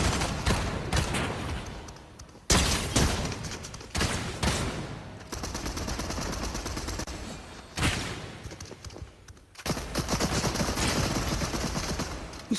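Fortnite gunfire comes in long rapid bursts and dense volleys, loud and continuous, with brief pauses between barrages and no talking.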